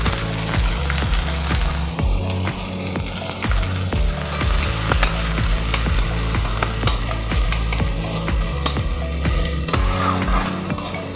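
Chopped onion fries in hot oil with nigella seeds and chillies, producing a loud, dense sizzle with regular rhythmic scraping and knocking of a spatula on the pan.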